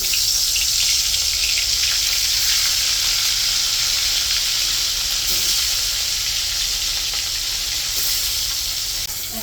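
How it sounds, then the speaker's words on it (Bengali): Hot oil sizzles and crackles steadily and loudly throughout, a continuous hiss of small river fish (poa) frying close by. "তেল গরম হয়ে গেছে এখন মাছ ভাজার জন্য দিয়ে"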